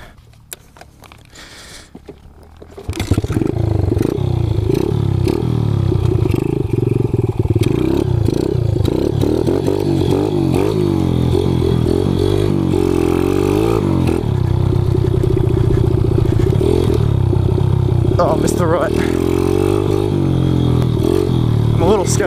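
A Kawasaki KLX 110 pit bike engine starts up after a short quiet moment, then runs loud and close for the rest of the ride, revving up and down steadily with a buzzing, slightly clattery tone.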